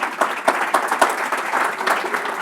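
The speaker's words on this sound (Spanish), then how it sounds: "Un aplauso, por favor, de nuevo a nuestros panelistas" Audience at a monthly academic medical session applauding the panelists, a short burst of close, fairly loud clapping with a few distinct sharp claps standing out from the group.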